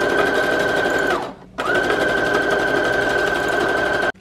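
A sewing machine runs a single line of stitching across a patchwork journal made from a box, with a loud, fast, even whir. It slows and stops briefly, then starts again and keeps running before cutting off.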